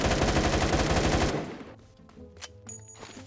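An AK12 rifle in the Roblox game Phantom Forces fires a loud, rapid automatic burst for just over a second and then stops. A few quieter clicks follow.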